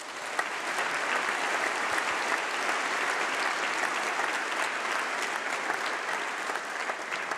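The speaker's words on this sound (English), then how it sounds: "A huge round of applause for them." Sustained applause from a large audience at a university winter graduation ceremony, honoring international students, dense and steady throughout without talk.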